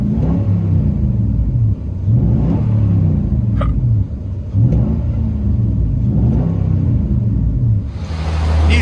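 Inside the cab of a 2011 Nissan Titan 5.6L V8 SV Texas Edition fitted with a DYNOMAX Race Bullet exhaust and 5-inch tip, the engine rumbles in a steady deep drone that pulses gently as the revs rise and fall.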